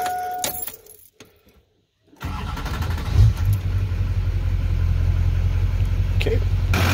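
A diesel vehicle engine, running on fuel treated with Marvel Mystery Oil, kicks in abruptly after a brief hush and a faint jingle of keys, then settles into a loud, steady, low rumbling idle close by.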